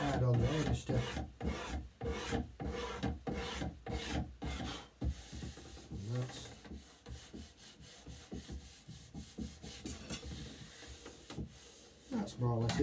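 A hand scraper shaves wood on a violin top with a series of rhythmic rasping strokes, some close together and some spread out, under light pressure.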